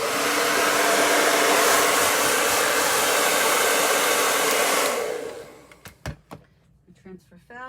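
A hair dryer blows steadily and loudly over a chalk transfer for about five seconds, then cuts off, followed by a few sharp clicks and handling knocks in a quiet room.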